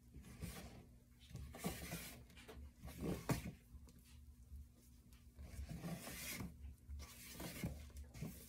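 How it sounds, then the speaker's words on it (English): Cocoa powder being folded into meringue with a spatula in a mixing bowl, giving soft repeated rubbing and scraping strokes at close range, fairly quiet, with no talking. "You want to fold it in with a spatula"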